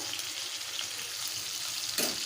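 Ginger, cumin and chili paste frying in a pan with chopped tomatoes, a steady close sizzle with a brief louder splash near the end.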